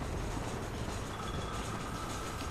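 A train rolls along in the Western video game Red Dead Redemption, a steady loud rumble and rattle of wheels on rails with a faint squeal near the end.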